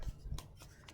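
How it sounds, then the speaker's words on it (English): Scissors snipping kinesiology tape, two or three quick close crisp cuts with a faint rubbing of tape between them, quiet and brief. "Get better scissors than I've got."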